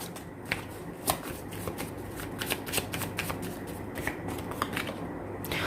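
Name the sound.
shuffling tarot cards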